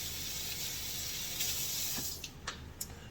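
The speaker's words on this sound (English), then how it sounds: "Wash my hands real quick." Tap water runs steadily into a kitchen sink as hands are washed mid-cooking, a continuous close hiss that eases off near the end into a few splashes and drips.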